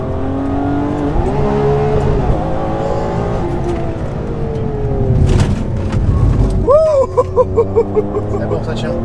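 Ferrari 599 GTB V12 revving hard with a gear change at 8000 rpm, the engine note climbing and howling, a brief break at the shift, then pops and crackles, loud from inside the cabin with voices talking over it.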